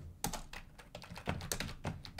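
Typing a short command on a computer keyboard, a rapid irregular run of crisp key clicks and thumps, close and clear with no voices.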